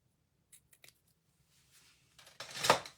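Scissors cut through ribbon: a few faint snips come first, then one louder, crisp close cut near the end, with quiet pauses between them.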